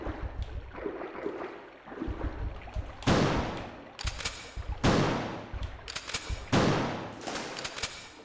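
Gunfire in the video game Resident Evil 2, three loud separate shots spaced about two seconds apart, each with a sharp crack and a short echoing decay over a low rumbling background.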